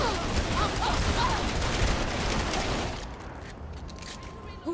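Sniper gunfire in the video game Saints Row 3, a dense barrage of shots filling the first few seconds and then thinning, mixed with game sounds and speech.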